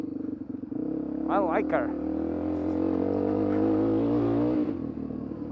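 A dirt bike engine runs continuously while riding, holding a steady drone with a slight rise and fall. A voice speaks over it.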